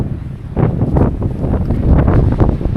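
Strong wind gusts across the Port de Tudons mountain pass near Penàguila, roaring and buffeting the microphone continuously and loudly without any talk.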